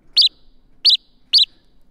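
A synthesized house sparrow chirp with light reverb repeats three times, each call a short, bright, high chirp separated by pauses of about half a second against near silence.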